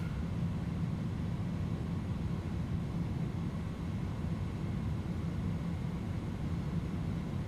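An Airbus A310-300 on its takeoff roll at Montego Bay gives a steady, loud low engine roar with broadband rushing noise, continuous and unbroken throughout, with no speech.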